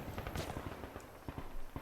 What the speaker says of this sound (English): We got 4 mortars now firing off.